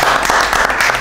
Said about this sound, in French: encore un applaudissement